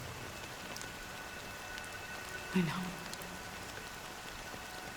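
Steady rain falls as a constant broadband hiss through the whole stretch, with a brief soft bump partway through and a short spoken phrase heard over it.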